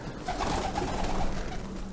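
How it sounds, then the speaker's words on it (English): Pigeons cooing inside an abandoned high school, a steady low murmur of overlapping coos close by in a large echoing space, with no talk. "these pigeons are kind of fearless"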